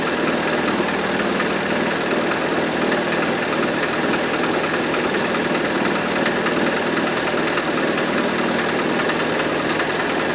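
A Land Rover 90, left unused for four years, idles steadily and loudly up close, a constant mid-pitched engine drone with no change in speed and no talking.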